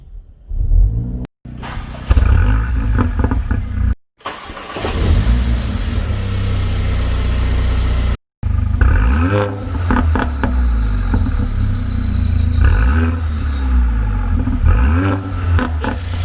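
A Mercedes-Benz GLA45 AMG 2.0L engine running an AMS-calibrated ECU cranks and catches, then revs loudly in repeated sharp bursts over a rumbling idle. There are brief cut-outs, and faint talk sits beneath the engine.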